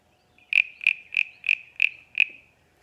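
Small wooden frog guiro scraped six times in an even rhythm, each stroke a bright, high-pitched rasping ribbit, close and clear against a quiet room.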